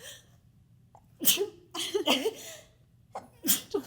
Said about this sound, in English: Oh God, I have to sneeze.